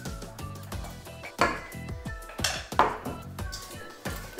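A spoon clinks and scrapes against a mixing bowl in quick repeated strokes as date mixture is stirred through sticky date pudding batter, with no voices.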